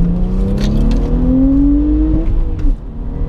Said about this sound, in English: second gear pull for us.